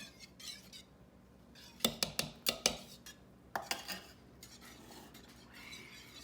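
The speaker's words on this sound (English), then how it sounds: "Oliver, go ahead and start whisking it together." French toast batter with maple syrup is whisked in a bowl: a quick burst of rhythmic metallic taps, then quieter scraping and clinks, close and otherwise quiet.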